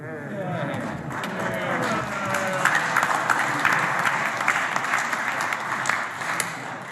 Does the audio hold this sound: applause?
yes